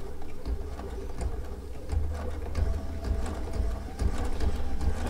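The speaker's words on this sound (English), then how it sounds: "But no, it's sewing fine now." A Baby Lock sewing machine runs steadily while stitching with metallic thread, giving a continuous close mechanical whir with a fast rhythmic needle clatter throughout, no voices.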